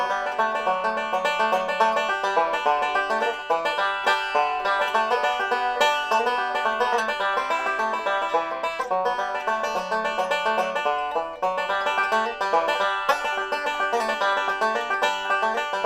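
Bluegrass banjo break on a song in the style of a bluegrass band, a fast, steady roll of bright picked notes played continuously at an even, full volume with no talking.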